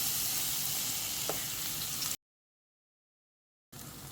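A soft, steady sizzle of banana pieces frying in ghee, with a faint clink partway through, cut off by a brief silence before the sizzling resumes.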